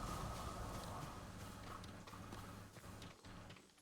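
Faint hooves of a horse walking in Ghost of Tsushima, soft irregular clops under a low ambient rumble, quiet and brief.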